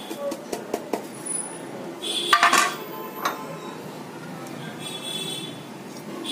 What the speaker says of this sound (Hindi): अब ये सारे मसाले मैं इसमें मिला देती